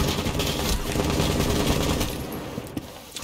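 Sustained machine gun fire from a Rainbow Six Siege match, a dense continuous rattle filling the clip at close range, easing slightly toward the end with a few isolated sharper cracks.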